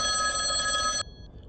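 A phone rings with a loud, steady electronic trill that cuts off abruptly after about a second, followed by near silence.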